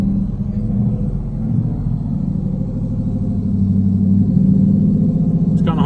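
A single-turbo 2018 Mustang GT engine is held steady at about 1,500 rpm, a deep, even rumble that rises slightly toward the end, close and loud with no talking.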